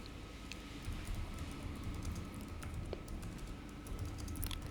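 Code being typed on a computer keyboard while setting up a Linux environment, a steady patter of soft keystrokes with a few sharper clicks over a low background hum.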